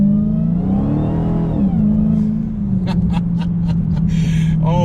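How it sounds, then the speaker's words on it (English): A Dodge Challenger Hellcat engine revs up and settles, its supercharger blower whining loudly over a steady drone, close and continuous, with a few sharp bursts near the end. "the blower in this car is very pronounced and it makes a fantastic sound"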